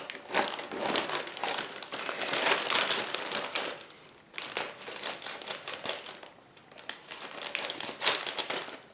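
Plastic bags holding parts of an Italeri 1/24 Porsche 928 S4 model kit are crinkled and torn open in close, continuous bursts of rustling, with a short lull near the middle.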